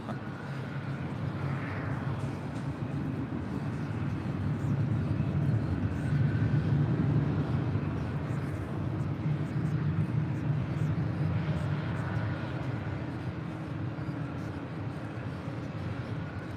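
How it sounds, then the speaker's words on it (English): A Delta Airlines Airbus A319 departing LAX for Denver gives a steady, broad jet engine roar that holds at moderate level for the whole stretch, with no talk over it. "This is Delta Airlines 1049 departing to Denver, Colorado on an A319"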